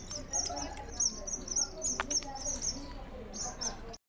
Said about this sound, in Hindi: बाहर यहाँ पर रखी हुई थी ये चिड़ियाँ छोटी छोटी सी